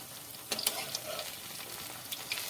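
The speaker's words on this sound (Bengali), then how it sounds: "একটু নেড়ে চেড়ে নিচ্ছি।" An onion-flower dish frying in a pan and being stirred, a soft steady sizzle with a few brief scraping clinks, fairly quiet.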